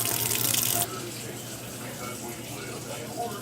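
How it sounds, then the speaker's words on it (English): Water runs from a tap in a loud, steady broadband rush for under a second, then cuts off, leaving quiet room noise with faint handling sounds. "keep your water running cold after you washed your hands"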